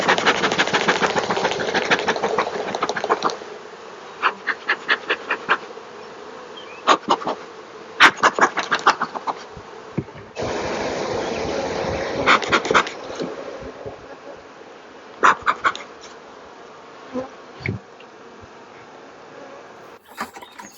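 Honey bee swarm buzzing during capture as the bees march into a box: dense, loud droning that swells and breaks into bursts and short gaps, thinning out to scattered buzzes near the end.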